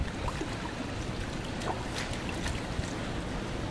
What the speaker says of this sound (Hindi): अभी जो रेत इकट्ठा किए हैं दोस्तों उसको ये धो रहे हैं